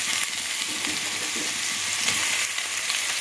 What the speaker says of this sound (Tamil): இந்த அளவுக்கு வெங்காயம் வதங்கினதுக்கப்புறம் நம்ம நசுக்கி வச்சுக்கிற அந்த சின்ன வெங்காயத்தை போட்டுக்கலாம்